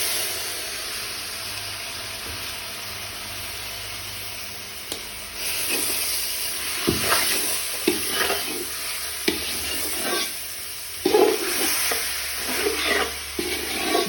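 Beef being stirred into frying masala of chili and turmeric for a Kerala-style beef curry, a steady close sizzle and hiss with irregular scraping and clattering strokes of the spoon.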